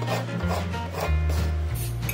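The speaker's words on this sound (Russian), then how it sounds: "Порезать наши помидорки такими же полукольцами или кольцами, как мы нарезали лук." A kitchen knife slices tomatoes into thin rings or half-rings on a board for an onion and tomato salad, giving close, steady rasping cuts that repeat without pause and with no talking.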